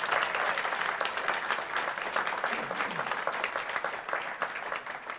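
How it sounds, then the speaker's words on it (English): Audience applause at a brass band club concert for a young brass player, dense continuous clapping that fills the room at fairly close range, with a few faint voices mixed in. "let's give him a round of applause."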